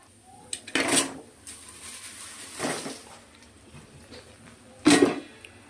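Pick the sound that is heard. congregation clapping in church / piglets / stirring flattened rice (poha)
stirring flattened rice (poha)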